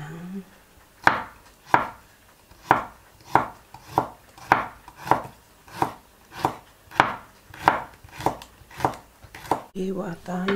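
An onion is chopped with a knife, a dozen or so even, sharp knocks on a cutting board at a steady, unhurried pace, close and distinct, with a brief murmur of voice at the start and end.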